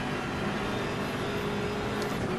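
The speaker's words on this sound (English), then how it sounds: "You can hear the gearbox a little bit more in this thing." The front-engined race car in Assetto Corsa Competizione gives off a steady, full engine drone with gearbox whine mixed in, held at a constant level throughout with no one talking.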